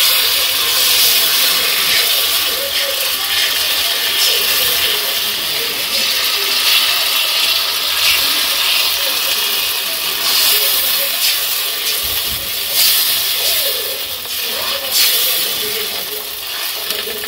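Batter of two kinds of lentil, semolina and flour frying in a pan gives a loud, steady hissing sizzle that runs unbroken for the whole stretch.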